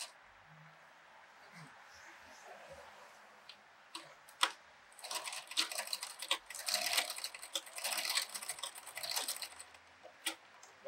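A sewing machine zigzag stitching quarter-inch elastic onto a fabric mask, going back and forth; bursts of fast, rattling stitching come in the second half after quieter handling clicks, close and moderately loud.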